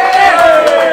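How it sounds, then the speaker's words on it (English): A vocal crowd at a WRU Premier rugby match between Hautapu and Hamilton Old Boys lets out a brief, loud burst of cheering and shouting close by. "we have got a vocal crowd here behind us there"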